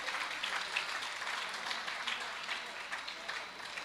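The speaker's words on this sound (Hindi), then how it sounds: "आप ताली बजाओ।" An audience at a Khatu Shyam katha gathering claps together in a steady, fairly faint burst of applause that holds throughout, with no distinct voices standing out.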